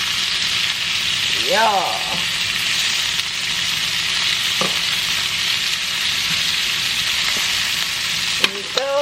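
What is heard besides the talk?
stirring cooked vegetables into sizzling fajita beef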